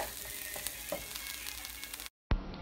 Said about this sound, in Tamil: பருப்பு லேசாக வதக்கி விட்டதுக்கப்புறம் நம்ம பீன்ஸ் இது கூட சேர்த்து வதக்கிக்கலாம்